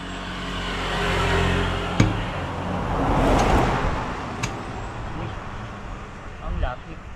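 Highway traffic rushing past a roadside digging site, a continuous swelling roar of vehicles with a couple of sharp knocks, while people talk over the noise.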